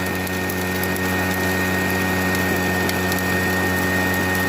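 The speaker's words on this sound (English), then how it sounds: "That blower's not even up that high." A blower hums steadily on gold prospecting equipment in Arizona, a constant mechanical drone with heavy vibration, loud and unbroken throughout.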